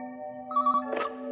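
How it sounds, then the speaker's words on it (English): A desk telephone rings with a short electronic trill of steady tones, followed by a brief clattering noise, close and moderately loud with no talk. "Just then, the phone on Luke's desk rang."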